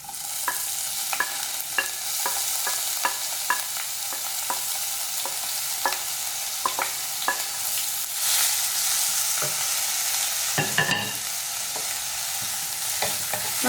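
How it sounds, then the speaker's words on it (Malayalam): Crushed garlic, ginger and shallots fry in hot coconut oil for a chicken stir fry, a continuous close sizzle broken by regular light taps and scrapes of a stirring spoon. "ഇപ്പോൾ വെളിച്ചെണ്ണ നന്നായിട്ട് ചൂടായതുകൊണ്ട് നമുക്കിനി ഇതിലേക്ക് വെളുത്തുള്ളി ചതച്ചത് ചേർക്കാം, ഇഞ്ചി ചതച്ചത് ചേർത്ത് കൊടുക്കാം, ചെറിയുള്ളി ചേർത്ത് കൊടുക്കാം."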